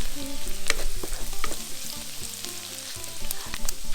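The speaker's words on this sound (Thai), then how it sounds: "กระเทียมสับลงไปนะคะ ผัดพอหอมเนี่ยค่ะ" Oil sizzles and crackles steadily in a hot pan as minced garlic is stirred, with occasional scraping; no voices.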